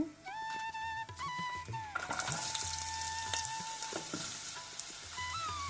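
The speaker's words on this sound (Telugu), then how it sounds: "ఆయిల్ వేడెక్కి ఉల్లిపాయ ముక్కలు వేసుకున్నాము." Onion pieces dropped into hot oil in a pan, sizzling as they fry, with scattered clinks and stirring, and a high tonal whine over the first two seconds.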